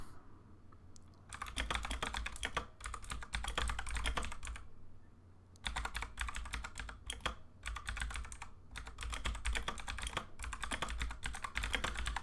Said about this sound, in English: I hear all my mechanical keyboard typing